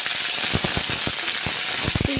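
Cauliflower pieces frying in hot mustard oil in a pan, a loud steady sizzle with scattered crackles and pops running throughout.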